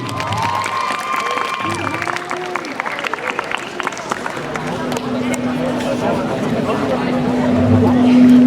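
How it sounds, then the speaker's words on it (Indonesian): A school debate audience claps for the panelists at a student council candidates' debate in a hall, scattered applause mixed with crowd noise and a steady hum, with talking running through it. "semuanya tepuk tangan untuk panelis kita hari ini."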